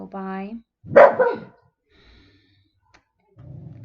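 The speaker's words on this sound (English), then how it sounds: "my dog, excuse him." A pet dog barks in a quick run of several loud, close yips from about 0.9 to 1.5 seconds, after a speaking voice and before a short low rumble, with some talk nearby.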